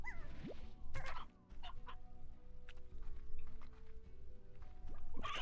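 Chickens in the video game Slime Rancher, heard as short clucks and squawks scattered over a busy background of small pops and game noises, with brief quiet gaps.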